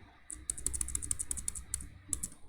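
Rapid typing on a computer keyboard while writing Java code, a close burst of crisp clicking keystrokes, a short pause, then a few more keys, with no talking.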